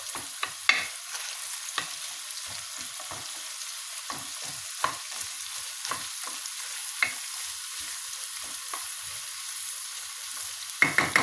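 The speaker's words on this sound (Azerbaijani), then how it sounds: "Və soğanımızı yaxşıca burada beləcə qovururuq." Onions fry and get stirred in a pan, a soft steady sizzle broken by frequent scraping stir strokes and light clicks, close up with no voices.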